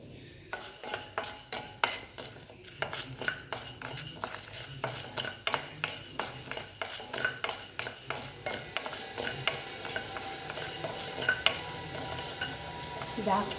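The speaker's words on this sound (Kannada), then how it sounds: "ಕಡಾಯಿ ಇವಾಗ ಬಿಸಿ ಆಗಿದೆ. ಉದ್ದಿನಬೇಳೆ ಹಾಕ್ತಿದ್ದೀನಿ. ಒಂದು ಸ್ವಲ್ಪ ರೆಡ್ಡಿಗೆ ಫ್ರೈ ಮಾಡ್ಕೋಬೇಕಾಗುತ್ತೆ." Urad dal frying in hot oil in a kadai, with a steady crackling sizzle and repeated sharp scrapes and clinks of a metal spoon stirring against the pan, close and continuous with no voices.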